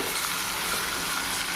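Red chilli masala frying and sizzling in a pan while being stirred: a dense, steady hiss that stays loud and close throughout, with no talk.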